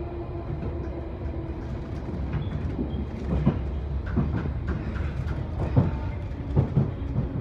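A London Underground Bakerloo Line 1972 stock train, unit 3238, runs between Harrow & Wealdstone and Harlesden, a continuous low rumble with rhythmic clicks and clatter of wheels over rail joints, close and steady with no talking.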